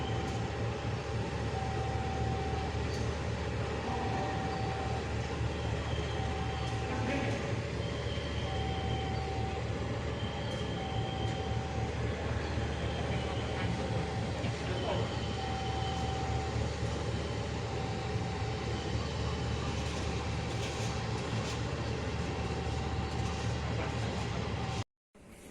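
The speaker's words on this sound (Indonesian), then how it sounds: "Dan jalur 2 yang akan berjalan langsung ini adalah kereta api Ranggajati dari Cirebon dengan tujuan Jember." The Ranggajati passenger train from Cirebon to Jember runs straight through a station on track 2, a steady rumbling roar with periodic horn-like tones sounding at a moderate distance, cutting off abruptly at the end.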